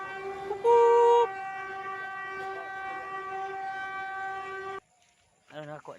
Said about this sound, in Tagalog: Ayan po, tingnan natin yung train.